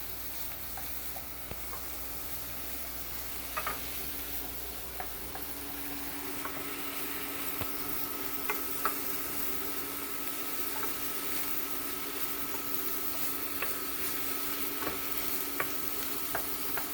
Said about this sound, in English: We're almost done with the sauteing part right here.